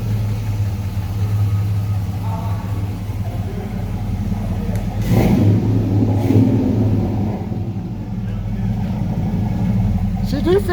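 A car engine fitted with a new, very loud exhaust rumbles low and deep, swelling briefly partway through as the throttle is blipped, while people talk nearby.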